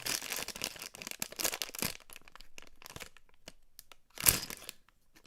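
Crinkling and ripping of thick packaging in uneven bursts, fading to quiet handling, then one sharp tearing rip near the end.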